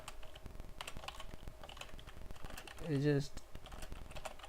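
Rapid clicking keystrokes on a computer keyboard patter close by and fairly quietly beneath a man's ongoing explanation.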